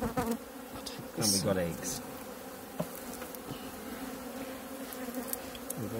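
Honeybees buzz densely around an opened hive under inspection, a close, continuous droning swarm, while people talk briefly over it.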